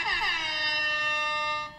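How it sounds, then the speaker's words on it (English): A loud sustained air horn blast, steady and bright with stacked tones, holding for nearly two seconds before tapering off, with no voices over it. "so I had to blow the air horn"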